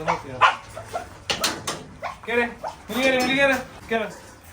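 Several beagles in a home kennel bark, yip and whimper in short bursts close by, with whining cries rising between the barks.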